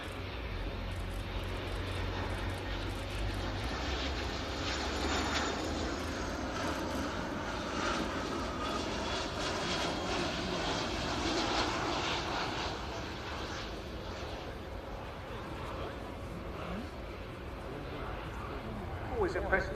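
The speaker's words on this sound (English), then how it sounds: "Always impressive to see a large aircraft as this close up and low down." A DHL Boeing 757-236 cargo jet flies low past the crowd at an airshow, its engines roaring loud and steady for the whole stretch while a commentator talks over the noise.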